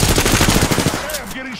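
Loud, close automatic gunfire in Apex Legends, a fast rhythmic burst of shots for about a second followed by fading ringing tones from the game.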